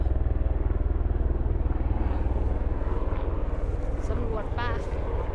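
A helicopter flying overhead while mushrooms are gathered outdoors makes a loud, rapid, steady low thudding of rotor beats throughout, with a voice faintly heard near the end.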